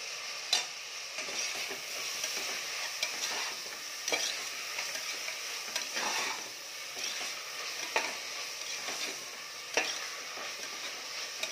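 Ingredients for ghee rice sauté in a pan with a soft, steady sizzle, close but fairly quiet. Occasional light scrapes and taps come from stirring, and nobody speaks.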